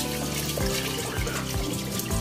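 Water runs steadily as rice is rinsed, a continuous close splashing and trickling with soft rhythmic sloshes and no voices.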